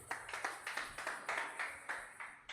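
A church congregation claps in praise of the Lord, faint distant applause in a steady rhythmic beat, hands striking together about five times a second with no voices over it.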